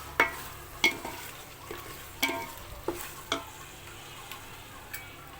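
Biryani meat masala being stirred and sautéed in a pot, with sharp spoon knocks and scrapes against the pan at irregular intervals over a faint low sizzle.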